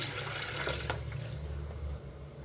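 Water runs into a kitchen sink while rice is washed, a loud, close splashing flow that eases off a little toward the end, with no talk.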